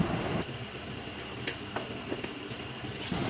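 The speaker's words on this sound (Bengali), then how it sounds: "তিন চার মিনিট এভাবে পেঁয়াজটা ভেজে" Onions fry in a pan with salt, turmeric and garam masala, giving a soft, steady sizzle with faint scraping taps of stirring throughout.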